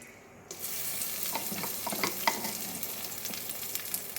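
Dried fish (shutki) fries in a generous amount of oil, a sudden loud sizzle breaking in after a quiet start, then a steady crackling hiss with stirring scrapes, close and without talk.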